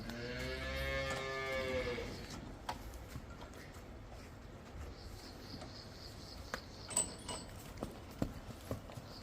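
A large dairy buffalo lets out one long, low moo nearby, followed by quiet background with scattered knocks and faint bird chirps.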